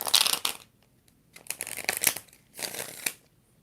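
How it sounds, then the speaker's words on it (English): Tarot cards being shuffled by hand, three separate bursts of crisp papery riffling and flicking, close and fairly loud, with short silent gaps between them. "5 shuffles."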